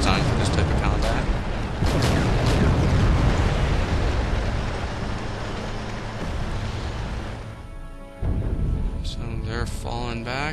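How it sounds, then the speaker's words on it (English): Artillery explosions in the real-time strategy game Wargame: European Escalation, a dense, rumbling barrage of blasts that roars steadily for several seconds, dips briefly, then surges again. "They're going to start firing artillery on them."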